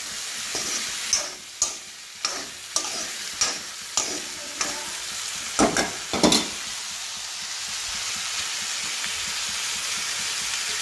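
Chicken frying in a pan with salt and turmeric, a loud steady sizzle broken by a series of sharp scraping stirs of the spatula, with no voices.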